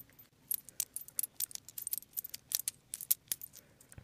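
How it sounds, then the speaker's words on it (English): Thin pieces of craft wire twisted around each other by hand while making a shawl pin, giving a series of bright metallic clicks and scrapes in irregular bursts, close and quiet, with no speech. "I'm going to twist these around each other"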